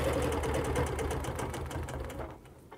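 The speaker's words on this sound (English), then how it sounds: "Hold your template down and stitch until you come to that line." A sewing machine stitching a chain-quilting pattern along a template on a quilt, a rapid steady mechanical whir of needle strokes running continuously and close, then slowing and fading as it stops.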